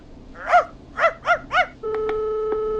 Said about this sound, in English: You just let loose the junkyard dog.